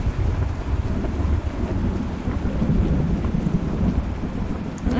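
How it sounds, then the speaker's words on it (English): A thunderstorm rumbles with steady heavy rain drumming on surfaces, deep rolling thunder running underneath the constant dense patter, with no voices. "it's really stormy out."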